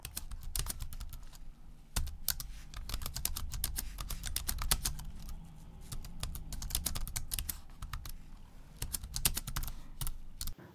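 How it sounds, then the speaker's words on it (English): Fast, irregular tapping on the plastic keys of a tri-folding Bluetooth keyboard with X-style keys, crisp tactile clicks in quick bursts with brief pauses, close to the microphone and without speech. "the X-style keys on this keyboard are actually very, very nice to type on"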